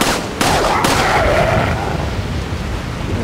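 Handgun shots in a video game firefight, two sharp loud cracks in quick succession, each followed by a lingering noisy tail, with no talking.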